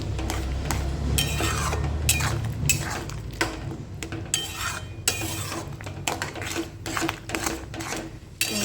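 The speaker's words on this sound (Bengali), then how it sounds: "তিল আর পোস্ত দিয়ে খুব ভালোভাবে এইভাবে পোস্তর সাথে মিশিয়ে নেব" A spoon scrapes and clinks against a metal pan while mixing a thick sesame and poppy seed paste into potatoes, with repeated sharp taps and scraping strokes at close range.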